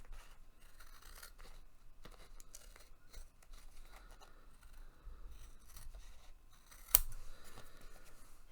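Scissors snipping a thin sliver of washi tape, a faint scatter of small close cuts and scrapes with one sharper snip near the end, quiet and without talk.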